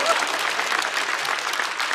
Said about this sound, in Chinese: 可以鼓掌。